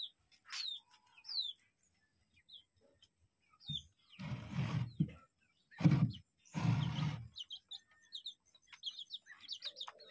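Small domestic chicks kept in a home coop chirp in short, high peeps scattered across the clip, with several louder broadband bursts of clucking or flapping from the adult chickens near the middle.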